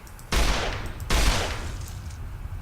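Two loud gunshots ring out in Fallout New Vegas as a player fires at a radroach, each sharp blast followed by a short decaying tail, about three quarters of a second apart.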